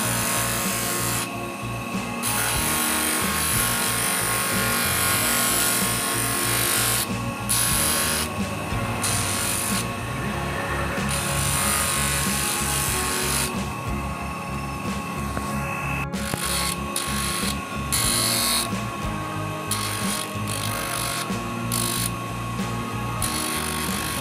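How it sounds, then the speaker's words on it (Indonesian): Sandpaper works a coconut shell ring in a continuous, loud, gritty rubbing, with brief pauses and changes in stroke throughout. "Selanjutnya kita bentuk ya menggunakan amplas."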